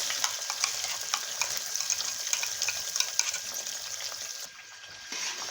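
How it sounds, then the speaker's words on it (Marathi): Ginger-garlic paste and ground masala paste sautéing in butter and oil for chicken butter masala: a steady close sizzle with scraping stirs throughout, briefly quieter near the end before resuming. "तर आपल्याला हे वाटण चांगलं परतून घ्यायचं आहे।"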